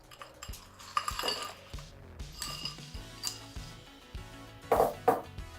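A metal whisk is tapped and scraped against a mixing bowl while making grain-free strawberry rhubarb muffins, giving a series of irregular close clinks and knocks with short pauses between them.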